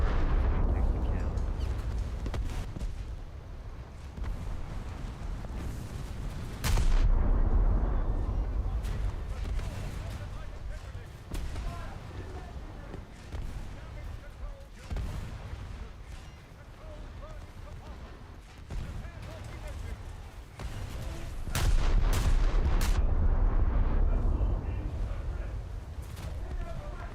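Video game battle on a beach where torpedoes explode, with heavy booming blasts and rumbling bursts rising and falling across the stretch, largest surges near the middle and end, mixed with players' voices talking.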